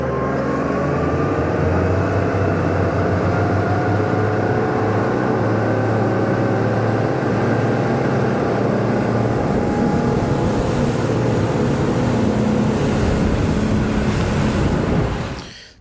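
Sea Hunt boat powering up onto plane on the run from Key Largo toward Key West, a loud steady engine roar with rushing water and wind throughout, holding strong before dropping away at the very end.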